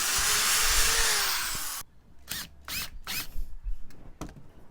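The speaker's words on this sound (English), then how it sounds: "I'm going to drill a pilot hole through and use a little screw like this one to secure the end cap to the 90mm pipe." A drill whirs briefly as a pilot hole goes through a plastic end cap on 90mm pipe, then short bursts of screwing and clicks follow, close and fairly loud.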